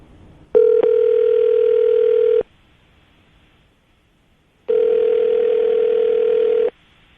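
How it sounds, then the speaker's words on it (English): A telephone dial tone sounds in two steady, loud bursts of about two seconds each, separated by a few seconds of near silence, with a brief click near the start of the first tone; no talk. "I'm going to dial the phone number right now"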